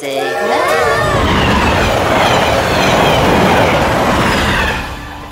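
A passenger train runs by close and loud, its broad rumble and rail noise steady for several seconds with a few high squeals at the start, then easing slightly as it moves away at the end.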